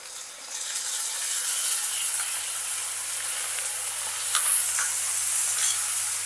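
Soy sauce hits hot gobi manchurian gravy in a pan, producing a continuous close hiss and sizzle with small crackles throughout.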